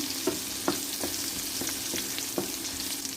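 Roll-pack butter sizzles and fries steadily in a pan for shrimp spaghetti, close and continuous, with a few sharp utensil taps over the crackle.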